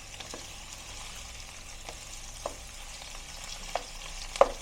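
Sautéed vegetables being stirred in a pan give a soft steady sizzle broken by scattered spoon scrapes and light taps, a sharper knock near the end, and no talking.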